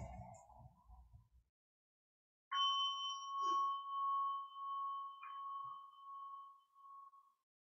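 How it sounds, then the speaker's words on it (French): A small meditation bell at a Plum Village gathering is struck once, a pure ringing tone that sustains for several seconds and slowly fades in a quiet room, with a brief second touch partway through. "J'invite un petit son de cloche avant."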